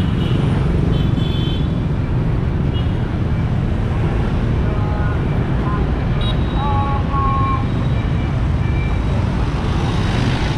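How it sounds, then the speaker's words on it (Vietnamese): Dense traffic jam in the streets of Saigon's District 4 and 5: a constant loud roar of motorbikes and vehicles with scattered horn toots rising above, and voices mixed into the din. "Lớn nên là rất là kẹt xe luôn"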